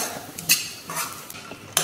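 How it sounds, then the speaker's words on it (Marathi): A spoon stirs cumin seeds and spices in oil in a pan over a low flame, giving a few sharp metallic scrapes and clinks with soft sizzling between them, close by and with no talk. "बारीक गॅस आहे, सतत असं परतत राहायचं म्हणजे एकसारखे मसाले भाजले जातात"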